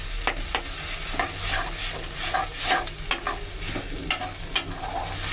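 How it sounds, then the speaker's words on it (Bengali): Spiced fish with taro (maan kochu) is being stirred and fried in a pan. A continuous loud sizzle runs throughout, with repeated scraping strokes of the spoon at an uneven rhythm, close up and with no speech. "এখন একটু ভালো করে নেড়ে চেড়ে একটু কষাতে হবে।"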